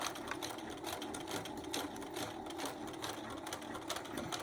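Sewing machine stitching an appliqué wallhanging, a steady fast mechanical hum and needle chatter running without a break, moderately quiet and close.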